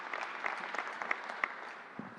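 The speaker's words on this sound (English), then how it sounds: "Let's give them a round of applause and thank them for everything they're doing" Audience applause for nurses at a vaccination event at Suffolk County Community College, sounding fairly faint and distant, a steady patter of many hands with a few sharper individual claps standing out.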